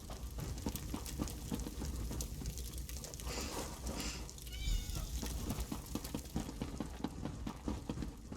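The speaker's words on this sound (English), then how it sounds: "Not another cat. I hate cats." A cat meowing repeatedly in The Elder Scrolls Online, at Fort Amol in Eastmarch, heard over a busy, dense game ambience of background noise.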